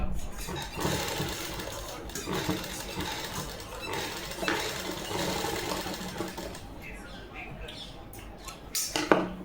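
A sewing machine stitches a Punjabi suit in a fairly continuous run under a voice talking, with fabric rustling and small clicks toward the end.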